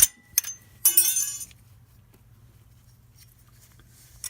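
Metal brake pad clip on a 1999-2004 front brake caliper snaps back into place: a few sharp, close metallic clicks and a brief rattle early on, then a faint low hum.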